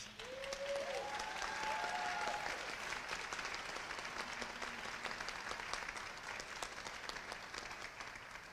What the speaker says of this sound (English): Let us give the choir another round of applause.